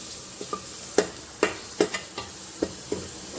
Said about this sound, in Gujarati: એ રીતે આપણે બધાને હલાવી લઈશું